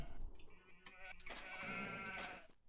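A sheep bleats in a strategy game, Age of Empires-style with Huns in a classic match, its wavering nasal cry standing out clearly in the middle of the clip over faint game ambience, with no talk.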